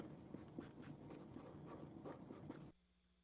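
Chalk or a marker scratches and taps steadily across a lecture-hall board as code is written, a continuous rubbing texture with small rhythmic strokes that stops abruptly near the end.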